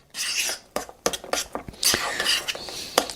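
A spoon mixing overnight oats in a container, with quick repeated scraping and clinking strokes in an uneven rhythm, close and fairly loud.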